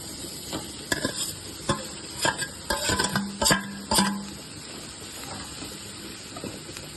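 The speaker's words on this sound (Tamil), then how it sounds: "அது லோ ஃப்ளேமில் நல்லா வதக்கிக்கோங்க." Fish puttu, Kanyakumari style, sautéing on a low flame: a steady sizzle runs throughout while a utensil stirs and clacks against the pan in irregular bursts, close and fairly loud, with no voices.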